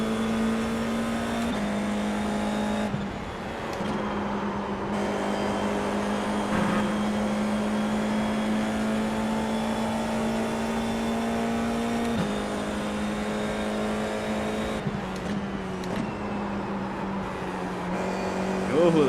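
FIA F4 race cars at Spa in a racing video game: a steady, droning single-seater engine note holding pitch, with brief gear-shift breaks and other cars close by, under a commentator's voice.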